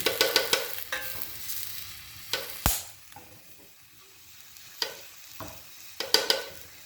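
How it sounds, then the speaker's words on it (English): Jalapenos charring in a hot pan, a soft sizzle broken by sharp clinks and scrapes as they are stirred and turned, close and irregular. "The jalapenos, we're gonna beat them a bit more. They need to be a bit burned like this."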